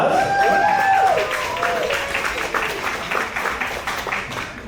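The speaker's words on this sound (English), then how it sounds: "Let's give all of our nonprofits a round of applause." Crowd applause for nonprofits at a showcase event in Bellevue, a loud wash of clapping that starts strong and tapers gradually, with a voice speaking over the start.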